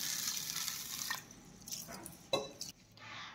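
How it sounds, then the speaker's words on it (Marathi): Rice and toor dal are washed by hand in water, giving soft irregular sloshing and dripping with brief splashes and pauses, close and fairly quiet. "आता आपल्याला हे डाळ आणि तांदूळ स्वच्छ धुवून घ्यायचे आहेत"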